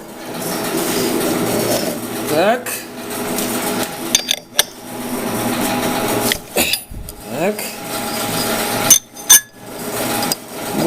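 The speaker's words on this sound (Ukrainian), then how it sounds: "зараз ми знімемо наші заготовочки" D16T aluminium gear blanks are removed from a machine, with close metallic clanks, knocks and scraping that come in sharp bursts over a continuous droning hum, and a voice is heard at times.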